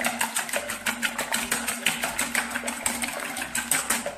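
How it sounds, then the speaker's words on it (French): Three eggs whisked in a mixing bowl for a French rum baba batter: a fast, steady rhythmic clatter of whisk against bowl, close and continuous throughout. "dans un saladier, je mets mes 3 œufs, je vais les fouetter"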